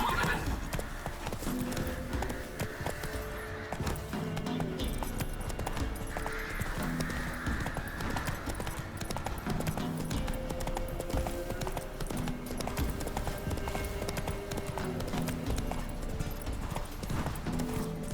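A horse gallops in The Witcher 3, steady rhythmic hoofbeats with an occasional whinny over constant game ambience and music, loud and continuous.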